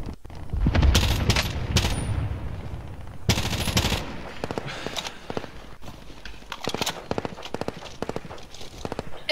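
Sustained bursts of minigun fire in a multiplayer shooter, loud and near, with rapid rattling volleys separated by brief gaps and scattered other gunshots around them.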